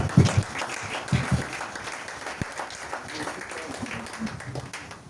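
Applause from a church congregation during a French-language sermon, short bursts of clapping that settle into a softer, scattered patter, with talk from the room mixed in.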